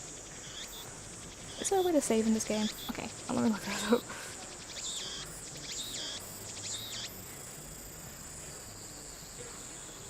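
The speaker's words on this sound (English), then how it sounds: "Oh, the cicadas are so loud." Steady high-pitched cicada drone from the visual novel Steins;Gate, continuous and moderately loud in the background while a person speaks over it briefly near the start.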